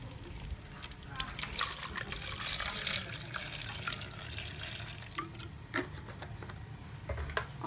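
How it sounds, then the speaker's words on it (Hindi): Water poured into a blender jar holding homemade cream for ghee, a soft, continuous trickling and splashing at low level, close by, with faint background noise. "अब हम इसमें पानी डालेंगे।"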